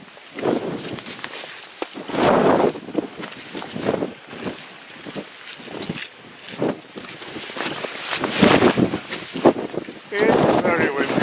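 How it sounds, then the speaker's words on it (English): Strong gusty wind roars and buffets the microphone on Hadrian's Wall, surging and easing in waves throughout. "It's very windy today"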